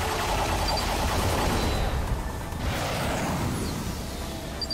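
Dense, continuous weapon fire and explosive rumble fill a Ratchet & Clank battle, loud and close, with sweeping whooshes layered over a constant roar and no talk.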